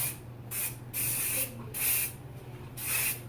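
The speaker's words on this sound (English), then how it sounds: "which is our Taffy Wax Finishing Spray, and show that we can get some texture into this style as well. So we're just gonna spray it up" Taffy Wax finishing spray hisses onto styled hair in four short, even bursts, close and fairly loud, with no one talking.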